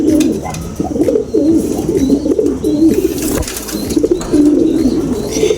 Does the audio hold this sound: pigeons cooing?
yes